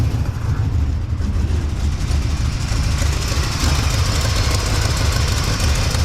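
A worn 1979 Chevy engine idles roughly with leaking exhaust gaskets, a loud, steady low rumble with ticking, puffing exhaust chuff throughout.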